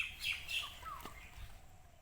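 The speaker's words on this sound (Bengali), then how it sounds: "পাখির ডাক আছে পাখির ডাক শুনতে পারছেন" A few faint, high bird chirps and calls in the open air of a garden beside a pond, brief and scattered over a soft outdoor background.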